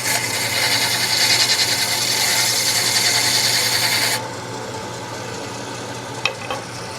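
A wood lathe turns a spinning workpiece while a Proforme hook tool cuts it, giving a loud, steady broadband whir and hiss that stops abruptly partway, followed by quieter motor hum and a couple of small knocks.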